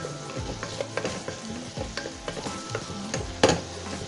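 Tomato, onion and cross-cut green chilies fry in a pan for instant sambar, with steady sizzling and repeated stirring scrapes, plus a sharp clatter near the end.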